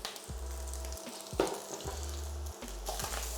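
Beef mince and tomato puree fry in a pan with a quiet, steady sizzle over a low, pulsing hum, with no talking.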